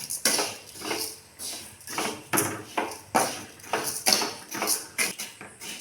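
Vermicelli roasting in oil in a pan while a utensil stirs it, giving a steady run of rhythmic scraping and clinking strokes roughly twice a second, close and moderately loud, with no talk.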